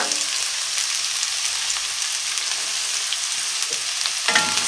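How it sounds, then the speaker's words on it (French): Onion hits hot oil in a pan with a steady bright sizzle and crackle, close and continuous, with a brief stirring clatter near the end and no voices. "on fait revenir une cuillère à soupe d'huile et on met l'oignon"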